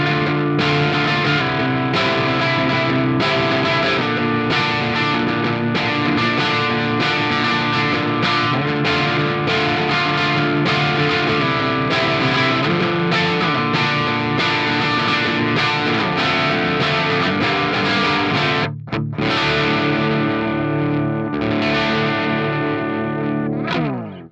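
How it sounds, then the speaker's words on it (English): Electric guitar through an ENGL Powerball II clean channel, gain just past noon, rings out chords at the edge of breakup, loud and continuous with a slightly gritty, chorused shimmer. "Sticking with the clean channel, this is the gain just above noon, and we're already getting into that pushed clean,"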